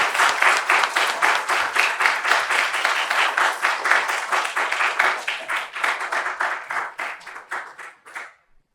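An audience gives a big round of applause welcoming a professor's lecture on essential medicine, a lively, rhythmic burst of clapping that stays strong for several seconds before tapering and cutting off abruptly.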